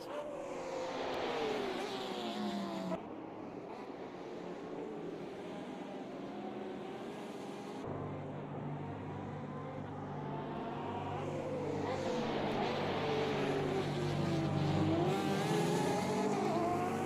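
A Porsche race car's engine roars steadily in Automobilista 2, with shifting revs throughout, gear changes and faint tire squeal, loud and close in the cockpit view.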